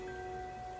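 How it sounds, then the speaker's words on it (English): Steady light rain falling in The Quarry video game, a soft continuous hiss with a few thin tonal lines from the game's ambient score running beneath it, with no talking. "A little rain out"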